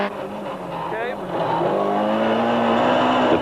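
A rally car races hard along a forest stage, its engine roaring loud and steady as revs climb and shift, with a voice talking over the engine noise.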